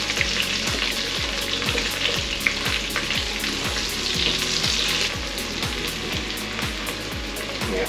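Onions sizzle and fry steadily in hot oil for bacon fried rice, a loud continuous crackle with rhythmic stirring scrapes running throughout.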